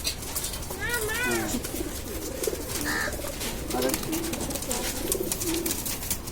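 Pigeons coo softly in low, rolling calls inside a large loft, repeated throughout, with people talking nearby.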